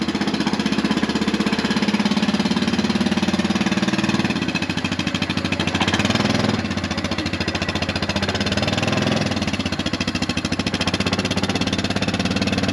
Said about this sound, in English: you want to get the mower out, TQ